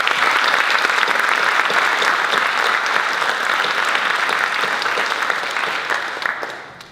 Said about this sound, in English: Please join me in a round of applause in honoring Beth Hopkins.